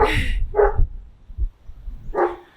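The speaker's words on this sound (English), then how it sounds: "Sorry, Aslan sees a dog" A dog barking nearby, three loud sharp barks spaced apart with brief quiet gaps between them.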